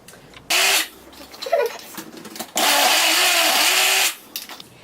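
Blender grinding ginger, half an onion, half an apple and minced garlic, two loud whirring bursts, a short one and a longer one, with quieter clatter between them.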